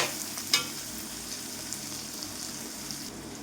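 Chopped green chillies fry in hot oil in a pan for fish pickle, a continuous close sizzle with one sharp clink of a utensil early on.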